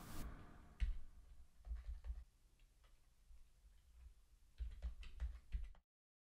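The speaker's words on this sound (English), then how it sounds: "Here I'm typing in some chords for a bluegrass tune I have in mind." Fingers type on a computer keyboard to enter chords into music software, giving quiet, close, irregular clicking keystrokes in two bursts separated by a lighter stretch.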